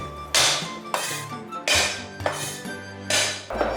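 A cleaver slams down on garlic cloves to crush them flat, giving four or five heavy, ringing whacks spaced about a second apart, each with a short metallic decay.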